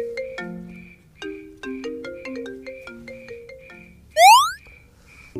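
A phone plays a bright, bouncy melodic ringtone, a run of stepped electronic tones near and clear, with a quick rising sweep toward the end and no talking.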